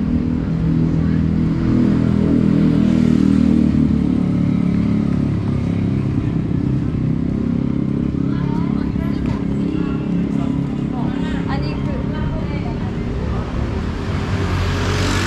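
Dense traffic of scooters and cars pours along a lively street in Kuta, Bali, loud and close, with engines revving and passing continuously under a crowd's murmur.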